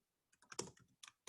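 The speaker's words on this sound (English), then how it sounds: "The typing is the most challenging part." Keys on a computer keyboard clack in a quick, quiet flurry of taps, a few soft clicks bunched together then a brief pause and two more.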